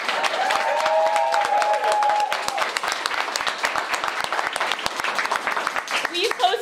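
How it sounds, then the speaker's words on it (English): Applause with a few cheers for an award winner on a local chamber of commerce TV show, a sustained crowd clapping at moderate loudness, with some voices and a short whistle mixed in. "So let's give her a round of applause."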